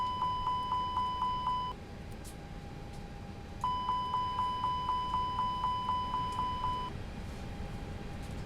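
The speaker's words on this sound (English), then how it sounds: "Check our fire alarms." Repeated electronic fire alarm test beeps in a simulated A320 cockpit in X-Plane 11, two bursts of rapid, evenly spaced tones over a steady hum, fairly faint, with no talking.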